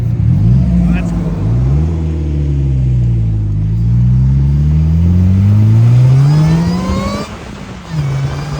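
A DF Goblin kit car engine revs hard and accelerates through rising and falling gears, loud and close throughout, with brief gear-change dips, while occupants talk over it.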